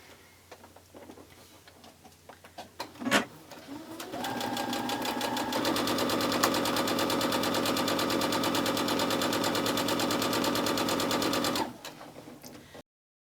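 Sewing machine stitching pre-cut quilting cotton, a steady rapid motor whir with dense regular needle ticks running continuously for several seconds after a few brief clicks, close and fairly loud with no talking.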